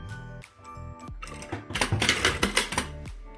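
A sewing machine stitching the slit of a pair of trousers, starting with a few separate mechanical clicks and then a quick, rhythmic run of stitching bursts before it stops.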